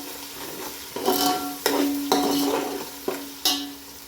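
Moong dal stirred into sautéed tomatoes for kichdi in a hot pan, a spoon scraping in several distinct strokes over a continuous sizzle, close up and without talk.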